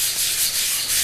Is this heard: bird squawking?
no